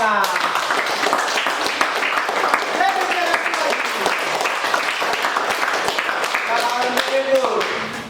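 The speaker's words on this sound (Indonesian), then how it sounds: "Hadiah tepuk tangan." A classroom of students claps for the best group, a dense burst of applause going on steadily with voices talking and calling out over it.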